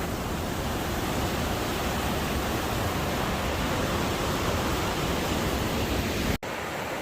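Emerald River water pours through a narrow rock crack in a steady, loud, unbroken rush of broadband noise, close and continuous, briefly cutting out near the end.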